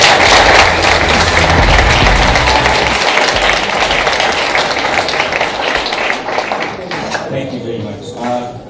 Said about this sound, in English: A round of applause to these babies.